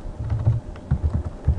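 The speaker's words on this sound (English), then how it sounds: "I'm holding shift and then clicking it" Computer keyboard and mouse clicks while selecting items in FL Studio, a quick run of soft, close taps in an uneven rhythm with no talking.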